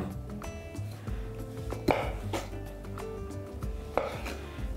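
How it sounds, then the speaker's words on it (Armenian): Knife cutting the ends off a kiwi on a board, a few distinct sharp chops spaced apart against a quiet kitchen background. "Կտրում ենք ծայրերը"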